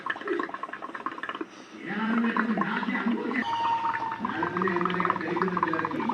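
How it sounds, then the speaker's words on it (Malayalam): Air blown through a plant stem into a soapy water mix makes a close, continuous bubbling gurgle that grows fuller and steadier after the first couple of seconds. "ഈ തണ്ട് വെള്ളത്തിലേക്ക് മുക്കി കൊടുത്ത് ഊതണം"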